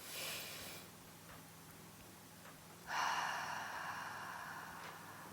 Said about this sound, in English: breathe in deeply through the nose, fill up that belly, then exhale through the mouth